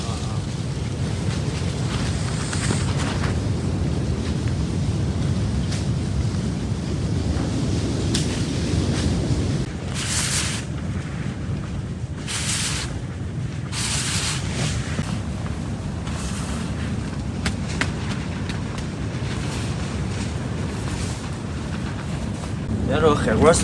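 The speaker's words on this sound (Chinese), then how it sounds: "这个大风这里都在动，都在晃。" Strong force-6 gale gusting around a newly built rural vegetable arch greenhouse, a continuous roaring wind with buffeting on the microphone and rattling of the structure, louder bursts coming in waves.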